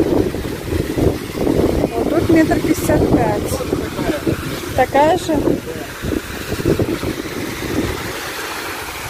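Strong wind from a sandstorm in Hurghada, Egypt roars and buffets the microphone in steady gusts while someone talks over it, with faint water in the background.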